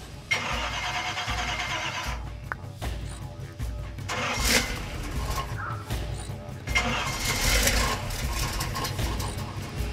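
Mopar 360 V8 engine with a new distributor and ignition box cranking and catching, coughing and revving unevenly in loud bursts while running rough and touchy, with people talking over it nearby.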